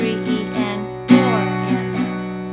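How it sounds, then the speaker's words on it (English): Acoustic guitar strumming with accents on beats 2 and 4, heard as a few sustained strummed chords where some strokes ring noticeably louder than others, close and clear with no talking. "So when we accent 2 and 4, it's going to sound like this."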